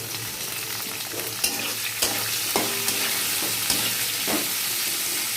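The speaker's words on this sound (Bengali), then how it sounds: "পেঁয়াজটা বাদামি বাদামি করে ভাজা হোক।" Chopped onions fry in hot oil until browning, giving a continuous sizzle broken by sharp scraping stirs and clinks of a spatula against the pan, close and loud, with no talking.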